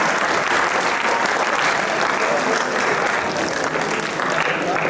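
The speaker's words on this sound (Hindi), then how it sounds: "So a big applause to all of you." Sustained, loud applause from a university audience at a talk at Lingaya's Vidyapeeth, a dense, even wash of many hands clapping at once, steady for the whole stretch without pause.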